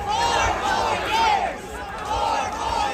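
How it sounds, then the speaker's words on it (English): A large, dense crowd of Donald Trump supporters at the Iowa State Fair, a steady loud roar of many voices shouting and cheering with some raised calls rising above the babble. "Here's the crowd for Donald Trump."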